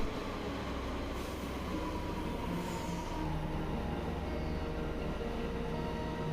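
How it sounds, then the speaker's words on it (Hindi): A Delhi Metro train pulls into a station platform, producing a steady, loud rolling rumble with a faint brake hiss, no voices heard. "तो अभी हमारी जो ट्रेन है वो आ चुकी है अक्षरधाम के लिए।"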